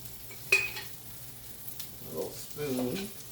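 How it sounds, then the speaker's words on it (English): Ribeye pork chops sear in a hot pan with a soft, steady sizzle, marked by a sharp utensil clink near the start and a few quiet bursts of talk. "Get a good sear on those."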